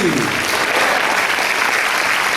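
A large audience bursts into loud, sustained applause at a Paraguayan harp celebration in 2014, a dense, even roar of clapping that holds steady throughout.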